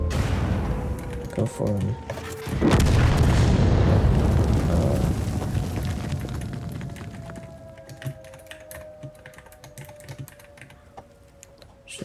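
A tank cannon fires in the World of Tanks video game: one heavy boom lands partway through, then a long rumbling roll that fades. Someone talks over it, and keyboard typing clicks throughout.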